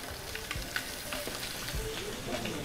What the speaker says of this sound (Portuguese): Nós vamos agora grelhar essa batatinha.